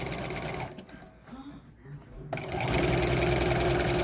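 A sewing machine stitches a fabric waistband on baby bummies, running loud and steady at close range, pausing briefly in the middle and then resuming at full speed.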